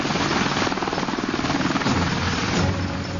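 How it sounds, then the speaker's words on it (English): Apache attack helicopter flying nearby, a loud steady rotor beat with engine roar holding throughout, no voices. "that's just what it has with the Apache helicopter"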